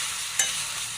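Mutton sautéing with ginger paste in a pan sizzles steadily, with one sharp scrape or clink of a spoon partway through.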